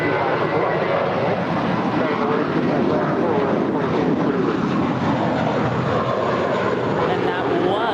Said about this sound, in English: And that was American Flight 4 to JFK.